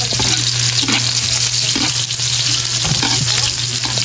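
Garlic and onion sizzle loudly and steadily in hot oil in a pan for papaya escabeche with tulingan, with a few soft stirring scrapes and no voices.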